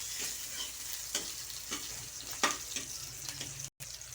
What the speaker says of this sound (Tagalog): So, gisa natin yung sibuyas.